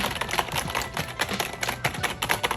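Rapid typing on a ROCCAT Magma membrane keyboard, a dense run of soft, muffled key presses in quick irregular bursts, close and steady with no voices.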